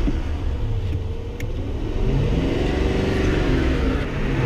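A Ford Crown Victoria police car engine held at high revs by a brick wedged on the accelerator, a loud sustained roar with rising and steady revving tones, close up, with no talking.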